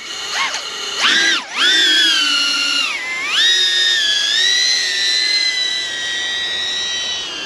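A DJI Avata FPV cine-whoop drone fitted with new motors whines loudly and close, its high pitch dipping sharply twice early on, then climbing and holding a steady buzzing tone as it flies.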